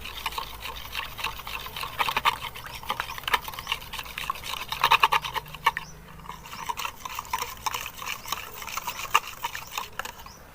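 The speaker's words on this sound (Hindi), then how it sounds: "दोनों को हमने अच्छे से मिक्स कर लेना है।" Milk being whisked into onion ring batter in a bowl, a steady run of soft wet stirring and light clinks close by, with no talking.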